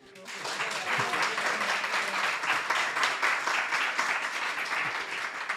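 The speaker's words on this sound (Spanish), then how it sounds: "también quiero pedir un aplauso a David por la organización del viaje." An audience gathered for a talk on Roman history bursts into sustained applause that swells quickly and holds a full, even roar of clapping, with faint voices underneath.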